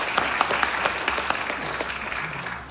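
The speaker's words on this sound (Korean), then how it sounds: "위대한 역사를 썼다는 거 박수 한번 보내드리고 싶고" An audience at a lecture claps together, a moderately loud round of applause with distinct individual claps standing out before it gradually tapers off.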